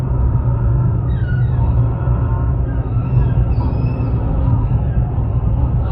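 A dense, low rumbling chorus of many penguins calling at once, continuous and steady in loudness, like a crowd murmuring together.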